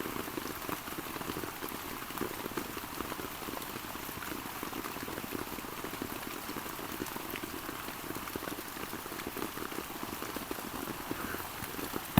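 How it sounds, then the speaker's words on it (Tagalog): A sudden heavy downpour falls as a dense, even hiss that stays steady throughout, with no one talking. "bigla pong lumakas nga po ang ulan"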